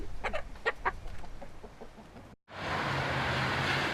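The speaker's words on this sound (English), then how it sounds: "And her beloved chickens." Chickens cluck in a short run of sharp, repeated calls, then the sound cuts abruptly to a steady wash of broadband noise with a low hum.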